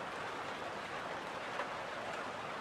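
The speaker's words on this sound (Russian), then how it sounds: "Дождь пошел." Steady rain pours in the forest survival game Among Trees, an even, dense hiss of falling drops with no voices.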